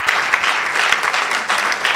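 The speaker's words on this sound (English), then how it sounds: "Clap well." Steady applause from an audience at the NSMQ 2025 national championship launch, greeting a speaker from MTN Momo; dense, even clapping fills the whole stretch at a fairly loud level with no talk over it.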